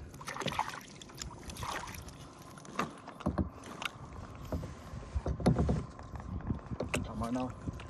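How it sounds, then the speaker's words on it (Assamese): A small rowboat moving through water in a wild natural setting, with soft irregular paddle splashes and knocks against the hull close by, and voices talking now and then over the strokes. "আমাৰ নাও"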